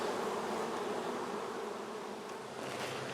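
Honey bees from a wall colony being removed in Central Florida hum in a dense, steady buzz of many wings, close and continuous throughout with no talking.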